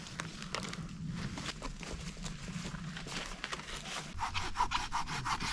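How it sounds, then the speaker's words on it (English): A hand saw works back and forth through a tree limb at a camp on the Appalachian Trail, with steady rasping strokes nearby that grow quicker and sharper toward the end. "I got another big limb there that I can bring back and use the saw and cut it down."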